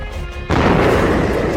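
An air strike explosion over southeastern Tehran in the morning bursts in suddenly after a quieter stretch, a loud broadband boom that rolls on as a sustained rumbling roar.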